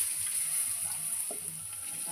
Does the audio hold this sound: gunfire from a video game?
no